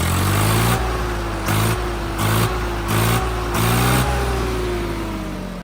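A Swaraj 100HP tractor engine revs hard in repeated bursts, rising and dropping about six times in a row, loud and close, with a low rumbling idle between pushes and no talking.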